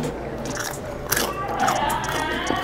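Someone bites into a crunchy Thai snack filled with crab meat, a single sharp crunch rising above a busy, crowded kitchen background with murmured voices.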